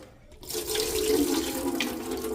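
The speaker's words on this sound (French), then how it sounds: "je vais rincer jusqu'à ce que l'eau, elle devienne claire" Tap water runs steadily and fairly close into a bowl while rice is rinsed for onigiri, starting abruptly after a brief near-silence and splashing continuously.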